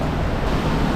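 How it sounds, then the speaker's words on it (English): A big waterfall inside a forest cave pours in a steady, loud, broadband rush of water that holds an even level throughout, with no voices over it. "Back at the big old waterfall."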